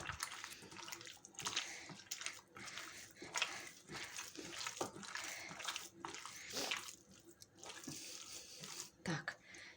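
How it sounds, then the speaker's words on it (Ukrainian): Cold water poured into about 300 grams of pork mince and mixed by hand for chebureki filling, with irregular wet splashing and squelching close by in a quiet kitchen. "Добавляємо туди холодної води, грам 50, і вимішуємо."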